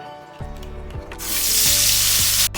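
Spice paste dropped into hot mustard oil in a kadai for an egg curry, a few stirring knocks over low hum, then a sudden loud hissing sizzle that swells and holds close up.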